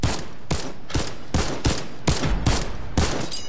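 An infantry rifle fires in a video game, with about eight loud, evenly spaced shots in quick succession, each cracking sharply and close over a constant background.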